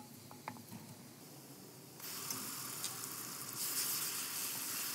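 Crushed cardamom and chopped onions frying in oil, a soft sizzle that swells into a louder, steady hiss partway through, close and unbroken, with no voices.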